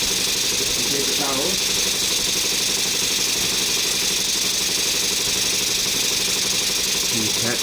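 A vintage Stuart 501 steam engine and boiler runs on its first test, giving a steady mechanical chugging hum throughout, close and continuous, with a voice speaking briefly over it.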